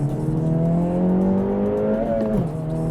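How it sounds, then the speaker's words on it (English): A turbocharged inline-four in an Acura Integra Type S revs up under load, close and loud, its pitch climbing steadily before dropping sharply as the throttle lifts. "Oh my god, the pops and bangs. And the turbo whoosh."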